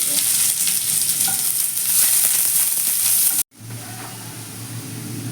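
Finely sliced onion fries in hot oil in a wok for a green banana peel paste dish, a loud, dense sizzle that cuts out abruptly for an instant, then resumes with a lower hum.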